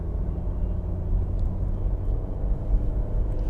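A Maruti Suzuki Baleno engine revs at around 2000 RPM in second gear, a steady, close, low hum and rumble with no voices over it.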